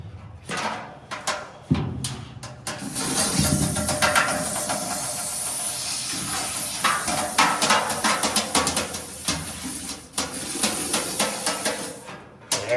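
Aerosol sealant hisses steadily from a spray can while coating the hard-to-reach interior surfaces of a 1957 Chevy truck, with continuous bursts broken by brief knocks and clatter from handling the can.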